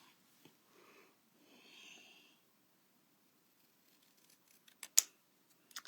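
Scissors trim white cardstock for a stamped card, giving a few quiet, close snips and a crisp cut near the end, with soft breathing and handling noise in between.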